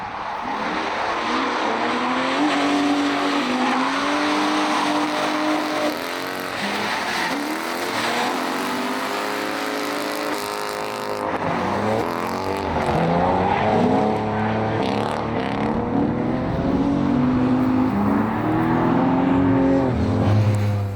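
Two drift cars run the Super D corner layout in practice at a Midwest drifting event, their engines revving and warbling loudly with sustained tire squeal and skidding throughout, close and continuous.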